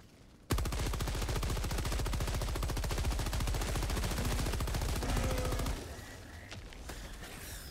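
A rapid machine gun in Helldivers II fires a long, continuous burst of tightly spaced shots for about five seconds, close and loud, followed by a fainter lingering rumble.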